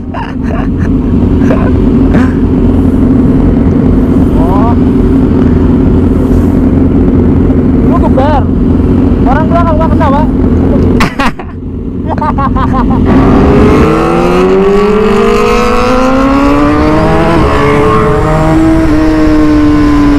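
Vehicles racing on a road, loud close engine roar droning throughout with revving pitch rises, a brief dropout and a sweeping acceleration near the end, with voices mixed in.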